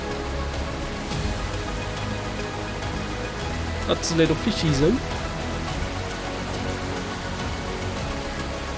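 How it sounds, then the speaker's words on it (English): Steady rain patters in a video game scene, a constant hiss of drops throughout, with a brief spoken remark near the middle. "the rain's too loud"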